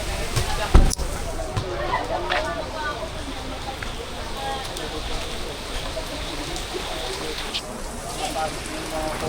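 Steady rain falls on an outdoor residential area, a constant hissing patter heard close by, with a brief sharp knock near the start and faint voices underneath.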